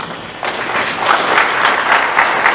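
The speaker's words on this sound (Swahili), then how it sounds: "Simameni tuwapige makofi" An audience at a government event on oilseed crop production bursts into applause, a dense crowd clapping that swells after a quiet start and stays loud and steady.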